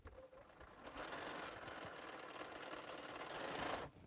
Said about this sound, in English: So right now I'm just sewing some 4 patches together.